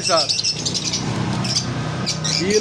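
Green and yellow Fischer's lovebirds at a bird sale chirp in quick bright bursts, close by and mixed with someone talking over them.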